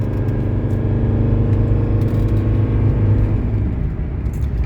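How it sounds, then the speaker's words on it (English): A 1981 Mercedes 300SD pulls uphill under acceleration, its engine giving a steady, loud, close rumble with a rising drone that holds for the whole stretch, with no talking. "Kind of accelerating up this hill."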